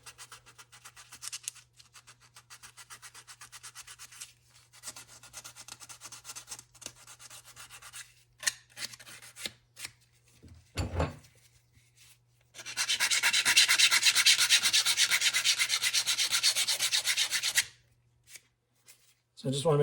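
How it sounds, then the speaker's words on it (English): Sandpaper rubs against a plastic part to deburr and smooth curled edges, making scratchy strokes in short bursts and then a longer steady stretch of rapid sanding, close up, with pauses between. "I'm just taking a piece of sandpaper and just kind of deburring the extra plastic that's curled in on the inside"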